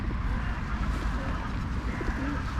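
Pigeons coo softly and repeatedly against a dense, continuous background rumble, with no clear pauses.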